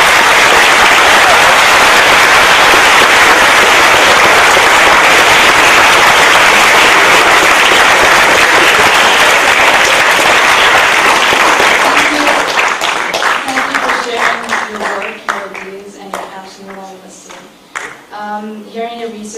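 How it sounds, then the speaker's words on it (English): Loud, sustained audience applause fills a lecture hall for Nobel laureate Aaron Ciechanover, steady at first, then thinning into scattered claps over its last few seconds as a voice begins talking. "I feel we should give another round of applause for it."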